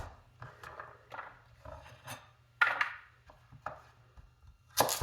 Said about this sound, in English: I can easily, even with this knife that cracks the carrot like crazy